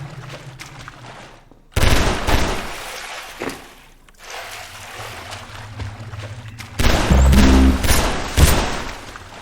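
Loud bursts of automatic gunfire from a shooter game test map, with a heavy volley near two seconds, another around four seconds and a dense rattling barrage from about seven seconds on, separated by quieter gaps.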